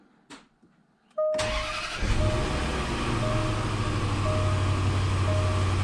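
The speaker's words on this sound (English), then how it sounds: "We'll start the car." Quiet at first, then an L322 Range Rover engine cranks and catches, settling into a steady idle hum close by.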